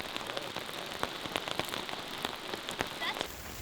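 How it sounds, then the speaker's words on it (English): Steady rain patters and drips on a hard surface at a campsite in severe weather, with a continuous windy hiss underneath and scattered louder drops close by. "I don't know if you can hear the wind and the rain"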